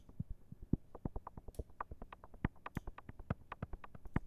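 A punchy electronic percussion loop with steady, rapid hits in a tight repeating groove, played alone with a touch of reverb.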